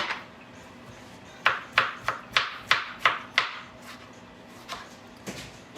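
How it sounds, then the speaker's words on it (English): Knife chopping cucumber on a cutting board, a quick run of about eight crisp close chops in steady rhythm, then a pause and two softer cuts near the end, with no talking. "All right, so a cucumber chopped up"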